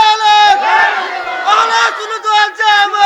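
A large crowd at a Bengali waz sermon roars takbir, Allahu Akbar, in loud unison, with repeated surging chanted shouts close and overpowering.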